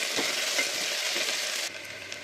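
Onions and green chilies sautéing with cardamom in hot oil for rajma biryani: a loud, continuous close-up sizzle and crackle that drops a little in intensity near the end.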